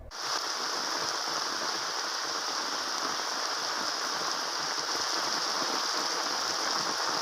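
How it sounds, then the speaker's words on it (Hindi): Continuous rain falls in Dabhoi, Vadodara district, Gujarat, making a steady, dense hiss of drops on surfaces that stays loud and even throughout, with no voices. "गुजरात के वडोदरा जिले के डभोई में भी लगातार बारिश हो रही है।"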